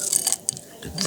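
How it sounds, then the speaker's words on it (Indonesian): Someone eating chicken porridge for breakfast, heard as a few close, soft bites and chewing clicks and mouth sounds in quick irregular bursts over about a second, with no talk. "Saya sambil sarapan bubur ayam ya."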